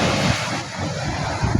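Big ocean waves breaking along the shore where small fishing boats go out, a loud continuous surf roar buffeted by wind noise, with no voices.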